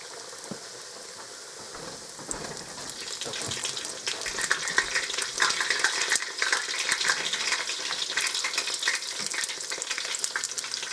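Fry bread dough sizzles in hot oil, a dense crackling hiss that swells louder partway through and keeps bubbling steadily up close, with no talk.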